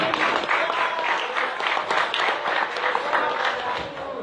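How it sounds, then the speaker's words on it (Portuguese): Lively applause and clapping from a congregation at a church retreat, a full, slightly pulsing wash of hands that carries on without a break. "Vamos aplaudir agora a nossa irmã Solange"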